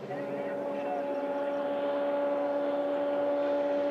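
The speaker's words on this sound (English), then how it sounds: "the leaders howl their way up to Le Combe, engine screaming" FIA Formula 3 race car engines from a 2014 European Championship race, a sustained high tonal drone holding steady and loud throughout, heard from trackside distance without voices.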